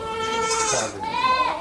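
Malabari goats at a goat farm in Kottakkal, Malappuram, bleat close by in a quick run of harmonic, wavering cries over faint farmyard background.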